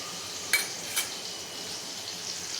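Ginger, cumin and coriander paste tipped into hot oil for a paneer curry sizzles up in two sharp bursts near the start, then settles into a softer, continuous frying hiss.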